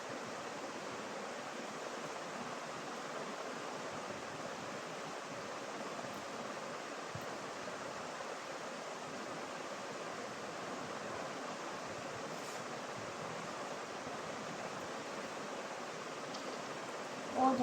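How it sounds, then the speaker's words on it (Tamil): Water poured steadily into a container holding silver color powder, a continuous close rushing splash that keeps an even level for the whole stretch, then ends abruptly. "இப்போ வந்து நம்ம இதில் தண்ணி ஊற்றிக்கலாம்."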